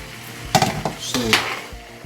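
A spoon scrapes and clanks against a cooking pot while turkey stew is stirred, a few sharp metallic knocks close by with a voice talking.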